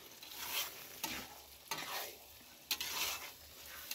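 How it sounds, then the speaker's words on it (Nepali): Akbare chili pickle stirred with salt in a pan, a steady scraping, sizzling stir with a few sharp utensil knocks against the metal, close and alone with no talk. "नुन राखेर मजाले चलाउने।"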